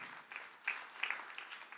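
A church congregation claps at a sermon: scattered, fairly faint hand claps in a short, uneven burst.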